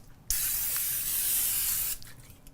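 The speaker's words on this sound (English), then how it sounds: "So I will go ahead and spray it with some" Cooking spray hisses onto a hot pan in one steady burst of about a second and a half, close and clear, with no talk over it.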